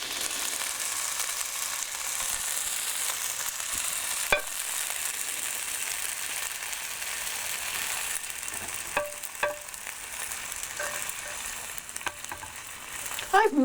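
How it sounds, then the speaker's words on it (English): Fish sears in a pan with a constant bright sizzle and crackle, heard close, with a few light clicks and scrapes toward the end. "the fish is not sticking up to the pan, so we're golden here"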